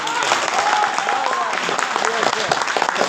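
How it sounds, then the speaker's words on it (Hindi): Hall audience clapping hard for a guest on stage, a continuous crowd clatter that stays loud throughout while a voice or cheer rises faintly above it. "मैं चाहता हूँ सर के लिए जोरदार ताली"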